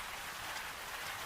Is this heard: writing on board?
no